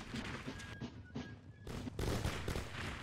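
Musket volley fire in a Napoleonic battle video game: dense, overlapping bursts of shots, loud and continuous across the clip, with no clear gap between volleys.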